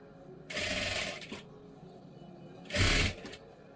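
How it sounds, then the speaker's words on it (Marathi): Sewing machine stitching piping onto a princess blouse, two short bursts of rapid needle clatter separated by a quiet pause with faint handling sounds. "पूर्ण शिलाई करून घ्यायचं आहे"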